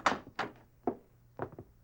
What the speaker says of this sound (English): Right through this door.